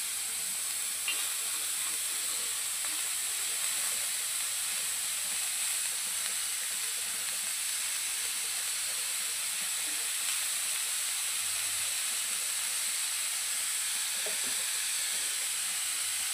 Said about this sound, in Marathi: कांदा बघा एकदम स्लाइसमध्ये चिरून आता तव्यावर टाकलेला आहे.